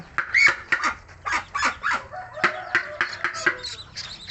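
Young Muscovy ducklings make a series of short, fairly close calls and peeps in quick irregular succession, with honk-like bursts and some background noise between them.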